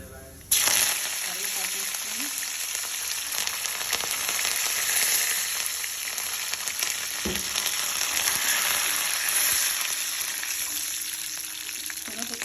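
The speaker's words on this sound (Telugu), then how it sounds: "కొద్దిగా వేగాలి ఎరుపు మీదకి రావాలి శనగపప్పు" Chana dal frying in hot tempering oil with mustard seeds and cumin for a cabbage, carrot and potato fry, giving a steady close sizzle that starts abruptly and carries on without a break, with faint stirring and a soft voice underneath.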